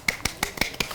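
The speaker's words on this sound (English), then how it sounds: "Clap for your friend." Five sharp, evenly spaced hand claps from a single nearby person, crisp and fairly loud with brief silences between them, no talking.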